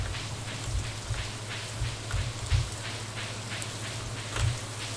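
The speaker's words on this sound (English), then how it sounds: "Don't mind me wandering in the rain in the dark." Steady rain falls in the Stardew Valley video game at night, a continuous patter with a low rumbling hum underneath and occasional louder drops, with no talk over it.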